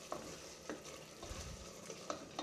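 Tomato masala with coriander powder and dried red chilli paste cooking in oil, giving a quiet, steady sizzle up close with a few soft stirring scrapes and no voices.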